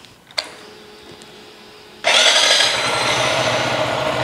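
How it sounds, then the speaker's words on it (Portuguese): A Zontes G1X 125cc motorcycle engine cranks and catches, then settles into a steady, loud idle that holds to the end, after a brief click and quiet hum at first. "Vamos ligar a moto para vos mostrar mais umas coisas."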